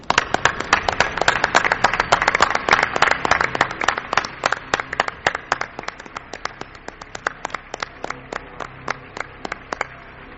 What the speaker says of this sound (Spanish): Yo también quiero ese aplauso, ¿no?, para otra pata importante de la nave del misterio